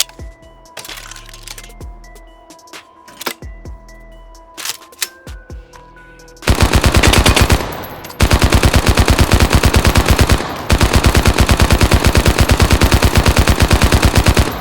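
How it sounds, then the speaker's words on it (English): The magazine of a BRM light machine gun is loaded in the virtual-reality shooter H3VR, producing scattered close mechanical clicks and clacks, followed by long, loud bursts of rapid automatic gunfire. "what's cool about this is how you load the"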